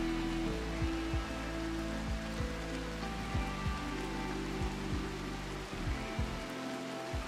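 Steady in-game rain in RimWorld makes a soft, continuous patter and hiss throughout, with sustained background music tones and a few low swooping thuds underneath, and no voices.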